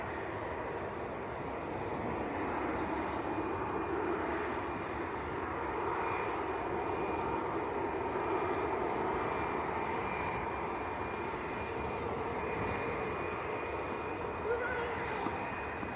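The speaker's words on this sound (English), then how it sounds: "Aer Lingus coming across as well." An Aer Lingus airliner passes at Manchester Airport, a steady distant jet engine roar that holds level throughout, faint and continuous with a soft whine on top.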